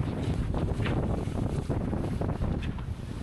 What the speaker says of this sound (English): The wind is 14 knots.